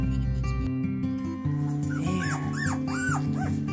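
Ten-day-old puppies in a whelping box whimper and squeal in several high, rising-and-falling cries, close up over a steady droning background hum.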